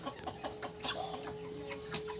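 A 50-day-old broiler rooster clucking while hanging on a scale, a few short, soft clucks and squawks in quick irregular bursts, close but faint, with a steady electrical hum underneath.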